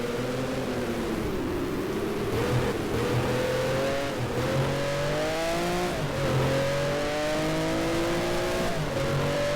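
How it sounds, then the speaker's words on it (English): Flat-12 race car engine of roughly 500 brake horsepower revving hard in the GT Legends racing game, a loud continuous howl rising and falling with gear changes, heard alone without voices. "A flat D12 engine already capable of 500 brake horsepower"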